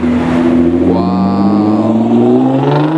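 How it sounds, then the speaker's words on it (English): A Nissan GT-R tuned to Alpha 9 spec revs loudly and close by, its engine note climbing steadily in pitch with a rich, layered exhaust tone and no talk over it. "Yes, it's the Alpha 9 GTR."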